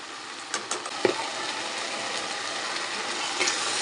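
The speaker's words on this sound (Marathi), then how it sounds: "मसाले मस्त परतून घेऊया" Masala of homemade red chilli powder, turmeric and coriander powder sautéing for a drumstick curry gives a steady close sizzle, with a few soft stirring scrapes and clicks near the start.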